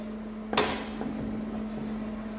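A single sharp metallic knock, like a hammer blow, while working a pulley off a garage door spring, followed by a few lighter taps over a steady low electrical hum.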